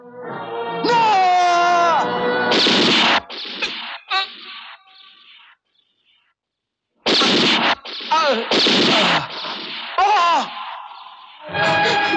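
Gunfire rings out in a Bengali movie scene, with loud bursts breaking between shouted dialogue and music, followed by a short silence before more voices and sharp impacts return.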